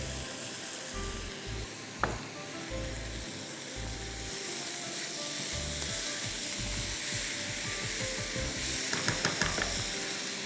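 Tomatoes sizzle loudly in a pan for koyla butter chicken, a dense continuous hiss close by with a brief clatter early on and faint stirring scrapes near the end, no voices.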